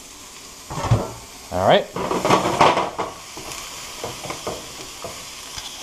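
Onions sautéing for chicken fried rice in a pan give a loud sizzle and stirring scrape in bursts, with a brief spoken interjection over the frying.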